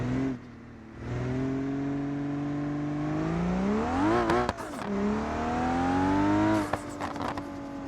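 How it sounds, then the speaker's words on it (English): A turbocharged Barra-swapped wagon in BeamNG.Drive revs hard through the gears, its engine note climbing and dropping at each shift, with sharp blow-off valve whooshes between pulls and no talking. "This car sounds amazing, by the way. I love the blow-off valve."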